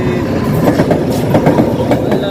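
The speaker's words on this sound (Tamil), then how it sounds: "ட்ரெயின் வருது" A train rumbles past close by in Jaffna, loud and continuous, with rhythmic clattering of wheels on the rails.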